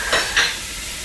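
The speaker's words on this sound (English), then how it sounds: "my skillet is already ready, and it's really hot on a medium heat, and I'm going to add 4 tablespoons of butter" Four tablespoons of butter dropped into a very hot skillet over medium heat give two quick bright sizzling hisses close up, then fade to a soft steady background.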